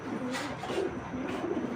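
A prized racing pigeon gives a soft, close, continuous murmur of low coos over a steady background hum.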